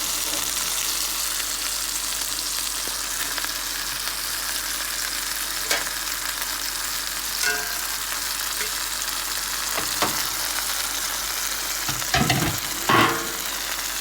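Boneless chicken breasts sear in a pan with a steady, close, hissing sizzle that runs continuously, broken by a few faint clinks and taps.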